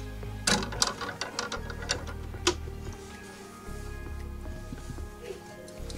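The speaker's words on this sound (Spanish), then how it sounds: "Cosemos, cosemos y atracamos justo donde dejamos el centímetro." Sewing machine stitching fabric for a multipurpose toiletry bag, with a few quick sharp clicks and taps early on over a steady low motor hum, fairly close.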